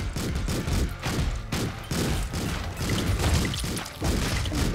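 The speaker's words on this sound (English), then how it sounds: "Who the fuck is shooting?" Gunfire in the video game Streets of Rogue, with cops shooting: a rapid, loud volley of overlapping shots and thuds continuing steadily over several seconds, with no talking.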